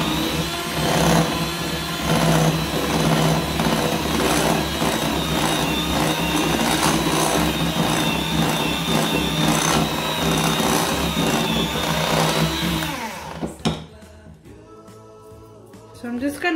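An electric mixer beats ingredients for a Christmas Yule log with a loud, steady whirring drone for about thirteen seconds, then cuts out into quieter bowl sounds and faint speech.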